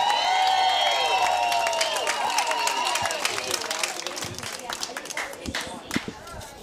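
Excited crowd at a pro mixed doubles pickleball match at the Baird Cincinnati Open, cheering and clapping with music playing, an announcer talking over it as the noise gradually fades.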